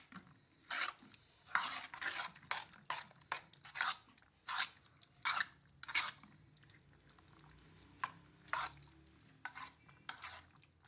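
A spoon stirs kebab ingredients with salt in a bowl for street-style malai boti bun kabab, producing repeated close, scraping, wet mixing strokes in an uneven rhythm with no talk.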